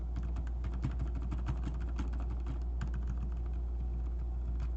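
Rapid, quiet typing on an Epomaker EP84 keyboard fitted with lubed and filmed Sakurio switches, a steady dense patter of soft muted keystrokes that speeds up in places, close and alone.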